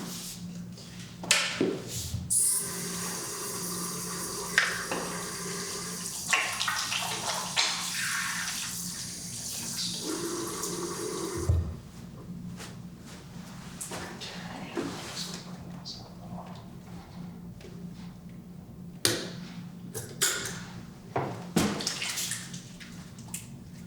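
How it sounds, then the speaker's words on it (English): Water runs from a tap during handwashing, a steady splashing hiss with intermittent drips and clatters, fading out midway, leaving quieter handling sounds and soft noises. "let me go ahead and wash my hands"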